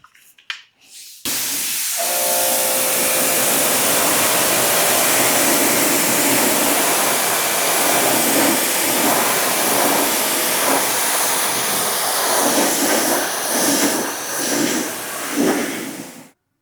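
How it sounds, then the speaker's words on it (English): A strong water spray rinses a dirty ceramic-coated car after an acid shampoo, a loud steady hiss that starts abruptly after a brief pause and runs close and continuous, with spattering surges as the stream moves across the panels. "Now let's go ahead and rinse it off and see how it's going to look like after."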